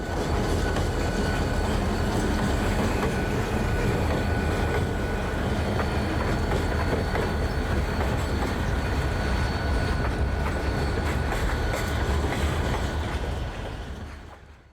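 A BNSF GP39E locomotive, originally built in 1963 for the Great Northern, rolls past with a loud, continuous rumble and rail noise, steady wheel clatter and faint squeal throughout, fading slightly at the very end.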